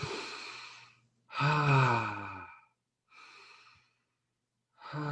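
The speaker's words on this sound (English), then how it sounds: "So it can either breathe in sharply" Breathing sounds demonstrated for bringing a puppet character to life: a short intake, then a longer, louder voiced breath with a sighing tone, a softer breath after a pause, and another starting at the end, close and intimate.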